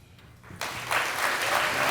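A crowd at a mayor's reception and volunteer awards ceremony swells from quiet into full applause, the clapping rising in two steps and then continuing, dense and steady.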